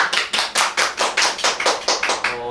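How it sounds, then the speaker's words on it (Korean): People clapping hands in a quick, even rhythm, about ten loud, close claps in unison, indoors. "박수!"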